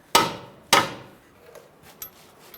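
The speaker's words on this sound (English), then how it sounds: "You might have to tap it through." Two sharp hammer blows tapping a strut bolt through the knuckle during a front strut replacement on a 2000-2007 Ford Taurus, close and distinct, followed by faint metallic clinks.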